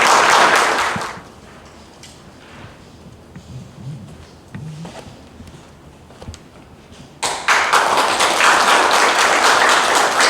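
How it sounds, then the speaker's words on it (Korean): A hall audience claps at a founding ceremony for a strategy research institute, welcoming the next speaker. A short burst opens the clip, a quieter stretch follows, then a loud, steady wave of applause lasts to the end. "박수로 맞아주십시오"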